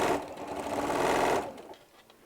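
Sewing machine stitching a bottle bag holder, a steady close whirring run of about one and a half seconds that stops abruptly, leaving faint handling noise.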